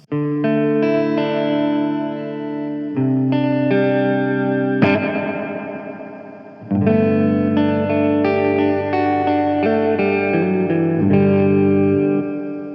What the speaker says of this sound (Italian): Questo è il riverbero.